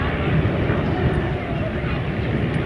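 Bristol F2B Fighter aircraft taking off at an air show, a steady broadband engine and propeller roar that holds loud throughout, with wind noise on the microphone and a voice talking over it.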